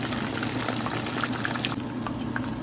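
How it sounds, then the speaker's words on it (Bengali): Chicken wings fry slowly in oil, giving a dense, continuous bubbling sizzle that holds steady at close range throughout. "আস্তে আস্তে ভাজবো যাতে ভিতরটা ভালো মতো হয়।"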